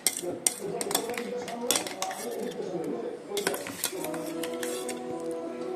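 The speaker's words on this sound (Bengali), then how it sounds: "বাসন মাজবো" Dishes and cutlery being washed in a home kitchen, with repeated clinks and clatters of pots, plates and utensils close by, running continuously over a steady background and a faint voice.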